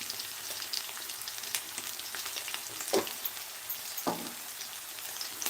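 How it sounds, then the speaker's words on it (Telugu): Onions and green chillies fry in a pan, a soft continuous sizzle and crackle with scattered pops and a couple of stirring scrapes, fairly quiet and close, with no voices. "చూడండి ఆనియన్స్ పచ్చిమిర్చి వేగుతున్నాయి"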